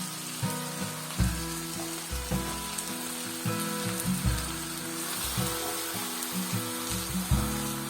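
Chicken pieces on the bone frying in a pan for chicken rogan josh, a steady close sizzle with brief crackles and spatters as the pieces are added and stirred.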